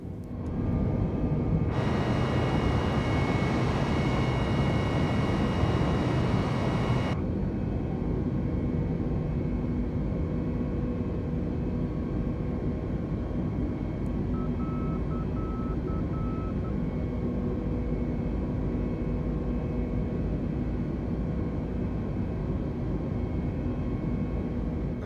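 Airbus A320neo engines in Microsoft Flight Simulator on Series X, a steady broadband engine roar with a louder, brighter burst early on, then a continuous cruise drone with a faint tone partway through.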